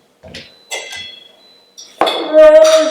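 Scoop clinking and scraping through frozen iced tea for a frozen spiked Arnold Palmer, a few sharp knocks followed by a ringing glassy clink, close and fairly loud.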